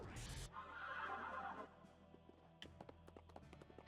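A horse whinnies loudly at the start in the video game Narita Boy, followed by hoof clops and light tapping sounds against a steady low background.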